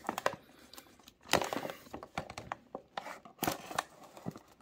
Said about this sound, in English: It has this knife, and I'm going to use this one. So I can cut it open here.